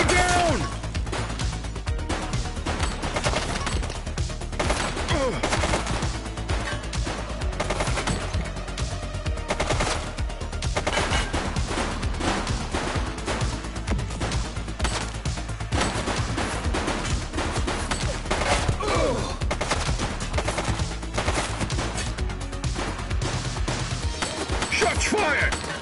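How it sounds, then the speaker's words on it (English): Dense, sustained automatic gunfire and crashing impacts fill a police shootout in the video game The Precinct, loud and continuous throughout, with shouted voices mixed in. "Shots fired!"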